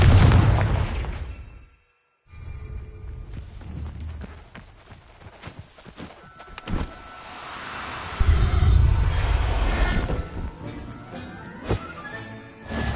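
A Confringo fire spell in Hogwarts Legacy sets off loud blasts that hit in bursts across the clip, with one short silent gap and a rumbling tail.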